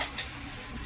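Sliced onion sizzles and crackles in a hot pan as it browns to a reddish color, a close, steady frying hiss with light stirring scrapes over the short moment.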